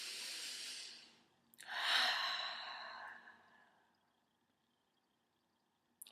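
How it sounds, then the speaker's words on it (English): A long, deep breath, a soft airy exhale that fades and then a fuller, louder breath released slowly before near silence, close and quiet with no talking. "Take a breath."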